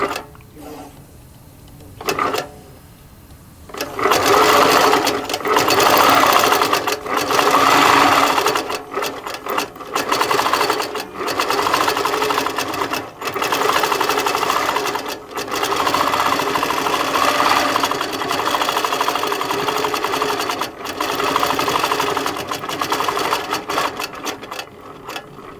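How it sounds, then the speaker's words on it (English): A Handi Quilter Moxie quilting machine stitching under computerized control, a loud steady mechanical whir that runs with brief pauses and restarts, close and with no voices. "I have my machine set to do some tie-offs. And then we're away stitching."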